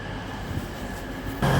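An East Midlands Trains class 158 diesel unit runs past with a steady low engine rumble and rail noise that grows louder near the end.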